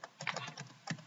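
Fingers tap a password on a computer keyboard, producing quick, uneven clusters of soft key clicks at close range, faint and unaccompanied by speech.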